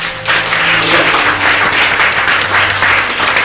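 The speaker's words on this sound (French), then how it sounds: "Est-ce qu'on peut acclamer le Seigneur pour vous?" A church congregation breaks into loud, sustained applause, a dense wash of many hands clapping together that pulses steadily for several seconds, with a faint voice underneath at the start.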